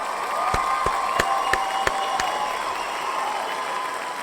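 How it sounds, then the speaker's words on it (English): An audience claps and cheers in a dense, steady burst, with a few sharp, louder claps standing out near the start before the sound settles into an even wash of applause. "Clap it up for that."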